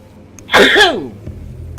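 A single sharp sneeze bursts out in Call of Cthulhu: The Video Game, brief and close, followed by quiet.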